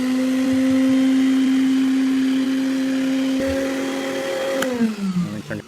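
A VacMaster shop vacuum with a brush head attached to its wand runs with a loud, steady whine and a strong motor hum, then winds down near the end with the pitch dropping and a few clunks.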